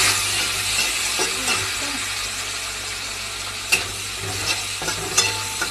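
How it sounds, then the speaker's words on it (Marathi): Chopped onion and garlic roast in a pan over a low flame, giving a soft steady sizzle with repeated spatula scrapes and a few sharper taps against the pan. "आता मला बारीक गॅसवर मी चांगलं थोडंसं भाजू देणार।"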